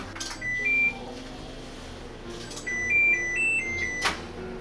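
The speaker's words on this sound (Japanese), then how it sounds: "電子レンジでいってらっしゃい。" Microwave oven heating a small portion of lard-rich gyoza meat filling, with a low steady hum and a few clear electronic beeps from the control panel, followed later by a series of louder beeps.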